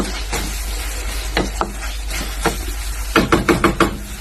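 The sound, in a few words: stirring and mixing food in a pan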